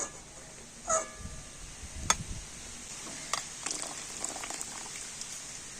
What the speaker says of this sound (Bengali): দেখুন টমেটোগুলো কিন্তু খুব ভালো মতো সিদ্ধ হয়ে গিয়েছে